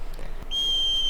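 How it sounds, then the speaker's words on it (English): A single sharp, shrill whistle blast at a broomstick flying lesson in a school courtyard from a Harry Potter film, starting after a brief scuffle and held steady and loud to the end. "When I blow my whistle, I want each of you to kick off from the ground hard."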